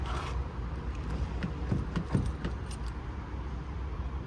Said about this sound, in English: Okay, you need to use the key to unlock.